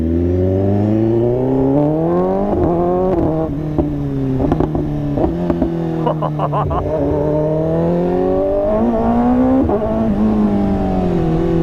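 A high-revving 2015 BMW S1000RR sport motorcycle with a loud SC-Project exhaust, its engine pitch climbing and falling through sharp revs, close and continuous.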